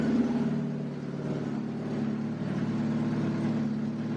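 A Jeep engine idling: a steady, even mid-low rumble with a faint rhythmic pulse, held at a constant level throughout, with no talking.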